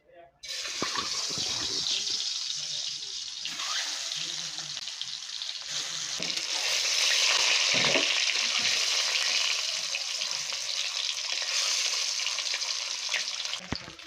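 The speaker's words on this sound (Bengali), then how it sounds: "তেলটা গরম হয়ে গেছে, এখন ডিমটা দিয়ে দেব।" An egg fries in hot oil in a wok (kadai), giving a steady crackling sizzle that starts suddenly, swells louder around the middle and keeps bubbling close up.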